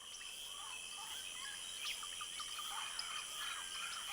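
In the Amazon rainforest, a male frog repeats short, bright chirping calls at moderate distance over a steady high insect drone.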